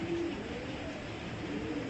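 Pigeons of imported Belgian breeds coo softly in a loft, low murmuring calls blending over a constant background hum with no voices.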